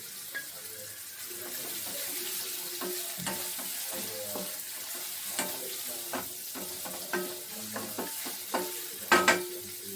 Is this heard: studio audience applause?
no